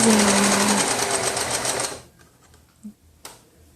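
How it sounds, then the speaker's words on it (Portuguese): A sewing machine runs a straight-stitch hem around a knit baby-look T-shirt, a steady loud whir for about two seconds before stopping, followed by a few faint handling clicks and taps. "E aí vou fazendo a bainha por toda a volta da blusinha"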